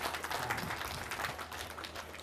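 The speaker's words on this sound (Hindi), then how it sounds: "एक बार ताली बनती इन माताओं के लिए।" An audience claps together for a group of mothers at a religious katha gathering in a hall, with a dense, steady patter of hands that stays even throughout.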